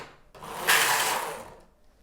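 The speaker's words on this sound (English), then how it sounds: "I push all my needles into working position" Needles slide along the needle bed of a Knittax domestic knitting machine as they are pushed into working position, one close rasping metallic sweep lasting about a second, swelling and fading, with no voices.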